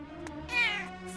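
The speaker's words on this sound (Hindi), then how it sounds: "सच में बहुत ही बदमाश बिल्ली हो" A cartoon cat gives a single drawn-out meow, close and clear, over a soft steady background tone.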